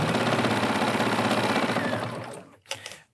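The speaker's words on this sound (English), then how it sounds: "it will take less than a minute or two, well, 2 minutes, depending on how fast you get with practice, to sew this tube completely down" A sewing machine stitching down a fabric tube, a fast steady mechanical whir with rapid needle chatter, close and loud, stopping abruptly near the end followed by a brief clack.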